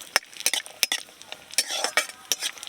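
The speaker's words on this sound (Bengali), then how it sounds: "ঘিয়েতে আগে কাজু কিশমিশগুলো ভেজে নিচ্ছি।" Cashews and raisins fry in ghee in a wok while a spatula stirs them, giving quick metallic scrapes and clinks over a soft, steady sizzle, close and with no talking.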